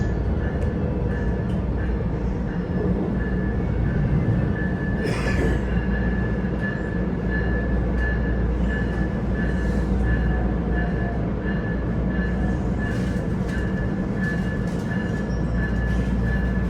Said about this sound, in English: Welcome aboard RTE Commuter Rail. This is the A line to Denver Airport Station.